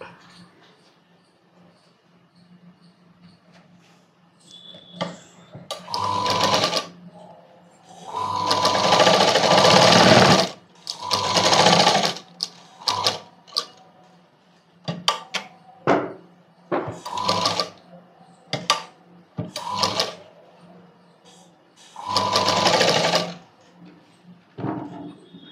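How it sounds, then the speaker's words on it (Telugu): Sewing machine stitching a padded blouse in repeated short bursts of whirring, close and clear, separated by quiet pauses while the fabric is adjusted. "ఇలా స్టిచ్ చేసుకోవాలి ఇలా."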